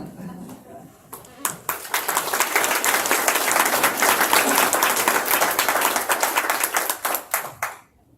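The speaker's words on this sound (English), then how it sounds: "Give them another round of applause." A crowd applauds at a Wisconsin State Senate District 1 Republican primary candidate event, clapping swelling quickly after a quiet start, holding loud and dense, then thinning into scattered claps and stopping.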